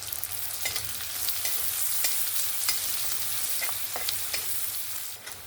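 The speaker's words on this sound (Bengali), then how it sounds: "পেঁয়াজটাকে ভালো করে একটু ভেজে নেব।" Onions sizzle steadily in a hot pan, a dense crackling hiss with small sharp pops and occasional stirring scrapes, close and continuous with no talking.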